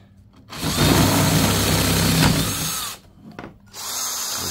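A power drill reams out a 3/8-inch pilot hole to widen it, whining loudly and steadily for about two seconds before briefly stopping and starting again, close and alone.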